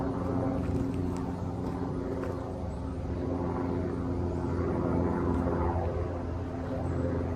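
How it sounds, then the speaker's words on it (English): A loud, steady rotor-engine drone fills the air from start to finish, a low thrumming roar from a helicopter passing close overhead. "Is there a freaking helicopter landing in my yard?"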